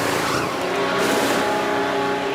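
An F1 car pulls through a pit stop in the F1 Manager 2013 racing game at the Great Britain round, its engine roaring loudly and steadily with a tyre squeal in a short burst and no speech.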